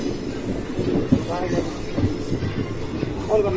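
A passenger train from Vijayawada to Macherla rumbles at a platform with rhythmic wheel clatter and occasional faint squeals, a steady rail noise filling the scene without clear speech.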